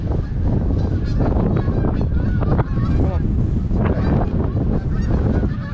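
Geese honk loudly and repeatedly from their roost on a river, a dense overlapping chorus of calls with some wind noise through the microphone.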